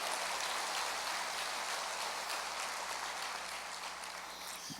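A church congregation applauds during a sermon, a dense, steady wash of many hands clapping together that fills the space and eases off slightly toward the end.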